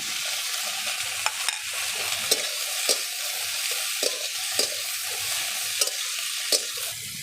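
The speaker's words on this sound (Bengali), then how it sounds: "এবার একটু নাড়াচাড়া করে দেব।" Yardlong beans with fried garlic and green chillies are stirred in a sizzling frying pan, a steady hiss of oil broken by repeated sharp scrapes and clacks of the spatula at an irregular beat, close and fairly loud.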